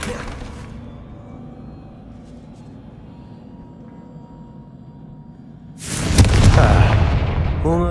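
A Confringo blasting spell in Hogwarts Legacy smashes through a barrier with a sudden loud boom and crackling shatter near the end, after a quiet stretch of low ambience.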